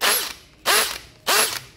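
Makita 484 three-function cordless battery drill switched to hammer mode, firing three loud, rapid rattling bursts at close range, each about a third of a second long with even gaps between.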